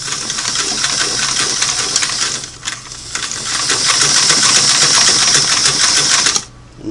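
A Singer Model 338 sewing machine stitching with a double needle at a short satin-like stitch length, a steady fast mechanical whir and rattle that pauses briefly, runs on continuously and then stops abruptly.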